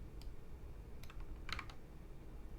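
A few quiet, scattered keystrokes on a computer keyboard, faint clicks in small clusters over a low background hum.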